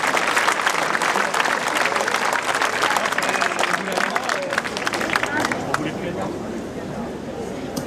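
A large theatre crowd applauds at a 2019 team presentation, the clapping dense at first and then thinning and fading, with crowd murmur underneath.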